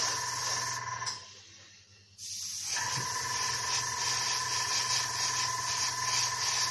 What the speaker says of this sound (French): Le spray est vraiment magnifique. Ça se diffuse vraiment parfaitement.